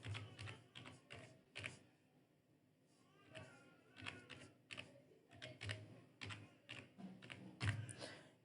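Quick bursts of keystrokes on a computer keyboard as a hashtag search is typed, close and fairly quiet, with clusters of taps separated by short pauses.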